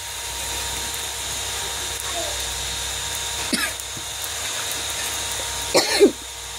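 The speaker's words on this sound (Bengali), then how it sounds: "তো আমার একটু কাশি হয়েছে" A person coughs twice at a home stove while cooking spices, short rough bursts close by, the second louder and doubled, over a faint steady background hum.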